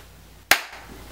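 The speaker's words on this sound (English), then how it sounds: "Go ahead and clap for me" One sharp, close clap rings out once in a quiet room, a single loud crack that decays quickly into near silence.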